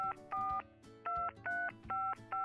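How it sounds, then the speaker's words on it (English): A telephone is dialed with a string of about seven touch-tone beeps in an even rhythm, each a clear two-tone chirp, close and alone. "Charlie Brown picks up the phone and dials his grandmother's number."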